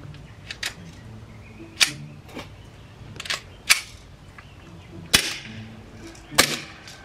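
An Umarex Beretta M9A3 blowback BB gun cracks off sharp, scattered snapping shots, single and in quick pairs, over a quiet background with occasional faint rustle.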